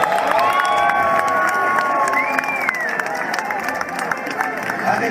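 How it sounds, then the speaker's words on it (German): Audience at an outdoor summer party in Margarethenhöhe welcoming a German schlager singer onstage: sustained crowd cheering, whistles and applause, loud and continuous. "Begrüßen Sie mit einem sehr warmen und herzlichen Applaus"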